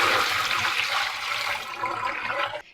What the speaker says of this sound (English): Now we can go ahead and dump the water out of our system.